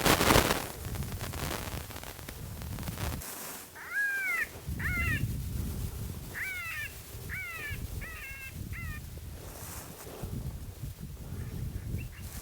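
Electronic predator call playing rabbit distress cries in open Colorado country, a series of short, wavering squeals repeated over a windy, rumbling background with some handling noise.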